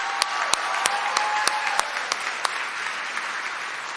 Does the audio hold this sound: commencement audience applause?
yes